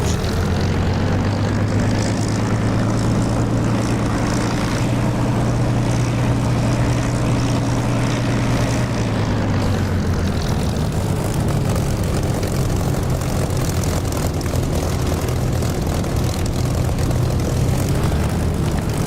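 Spitfire piston aircraft engine in the DCS flight simulator game, a loud steady propeller drone that holds at a constant roar before shifting in pitch as takeoff power builds, with no talk over it.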